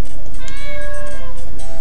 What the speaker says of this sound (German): Boah, ey Katzen, geht mal weg.